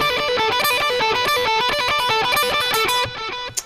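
Electric guitar plays a fast repeating lick from the outro solo, a steady stream of distorted, sustained notes that stops abruptly near the end, loud and close with no voice.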